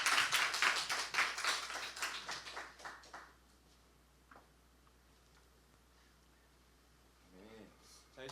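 Congregation clapping at a Sunday worship service, a burst of brisk claps that fades after about three seconds into quiet room tone, with a few scattered sounds near the end.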